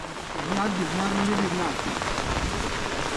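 Monsoon rain falls steadily through a Konkan forest in July, a dense, even hiss of drops on leaves and ground, with a faint voice murmuring briefly near the start.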